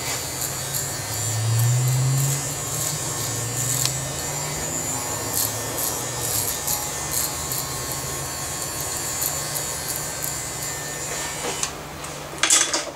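Hair clipper blade rubbing across the scalp while cutting a flattop, a steady close electric buzz with shifting rasping strokes throughout, no talk.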